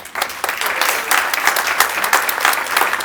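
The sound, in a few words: audience applause for Brian Sullivan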